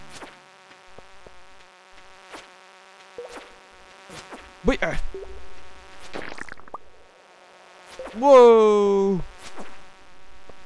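A constant thin buzzing from a moth creature's wings in the Stardew Valley video game, faint and steady throughout, with a man briefly exclaiming over it.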